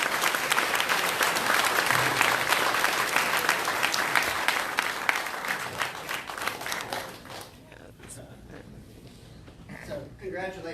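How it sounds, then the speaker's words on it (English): Audience applause at a Helena City Council meeting, honoring the Helena School's Southern Championship win: dense steady clapping from a roomful of people that thins and fades toward the end as voices return. "So give us a round of applause."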